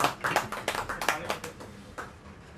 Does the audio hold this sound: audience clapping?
yes